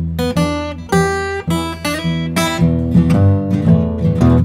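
Acoustic Delta blues guitar riff with a steady monotonic bass under repeated plucked phrases, played close and fairly loud with no talking.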